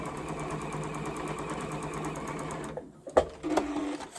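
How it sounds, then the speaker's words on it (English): Sewing machine stitching quilt fabric into half-square triangles for a Christmas quilt, a steady rapid whirring hum for most of the clip before stopping, followed by a few brief clicks and a short burst. "Then I'm going to flip it and sew the other side and do the same thing."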